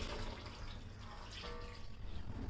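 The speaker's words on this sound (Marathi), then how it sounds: "आता आपण हे ताटातलं पाणी आहे ना ते यामध्ये घालूया" Water pours steadily into a pot of cooking Kolhapuri mutton curry, a continuous splashing gurgle at close range, with no voices.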